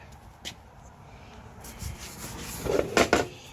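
Brushing and wiping across the back of a wooden cutting board being refinished, soft rubbing strokes building to a few louder close scrubbing passes near the end, with no talking.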